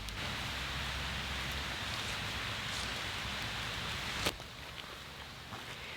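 Steady rain falls on and around a Wildlands UL2 backpacking tent during a stormy camping night, a dense even hiss with one sharp close knock partway through.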